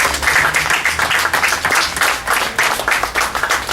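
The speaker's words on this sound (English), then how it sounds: "I want to have a loud round of applause for this." An audience at a civic address on regional flood-control work gives a loud round of applause, with brisk clapping that rises and falls in waves, close and full.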